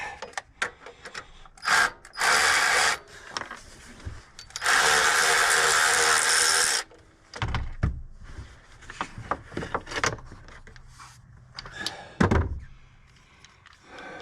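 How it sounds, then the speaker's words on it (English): Tool work on a GMC Yukon engine to remove a pulley: scattered clanks and knocks are broken by two long, loud mechanical bursts. Quieter handling noises fill the gaps between them. "So we'll get this pulley off because it's going to go back."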